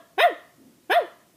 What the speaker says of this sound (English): Little dog goes.